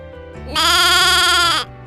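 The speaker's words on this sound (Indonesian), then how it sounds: "Ini adalah suara kambing." A single drawn-out bleat, loud and close, with a wavering nasal tone lasting about a second over faint background hum.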